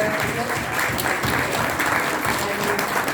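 A standing audience at a Windrush Foundation event breaks into dense, steady applause, many hands clapping continuously and close, with a faint murmur of the crowd underneath.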